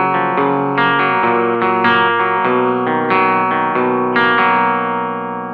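Distorted electric guitar chords played in a choppy, syncopated pattern, loud and steady, each strike ringing into the next.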